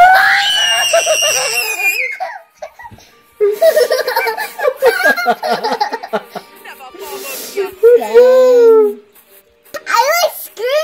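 A child screams loudly and repeatedly during a Scary Teacher 3D video game session, high piercing shrieks mixed with giggles and belly laughs, broken by short pauses and a few quick exclamations.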